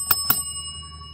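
A small bell is struck twice in quick succession, two bright close dings with a thin ringing tone lingering afterward in a quiet room.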